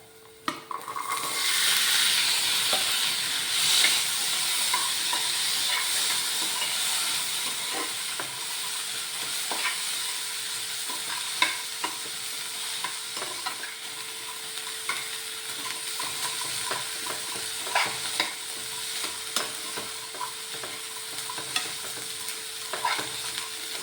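Chickpeas being stir-fried with softened onions in a pan for street-style chana masala, a steady bright sizzle running throughout with frequent scraping stir strokes and small clinks, close and fairly loud, no voices.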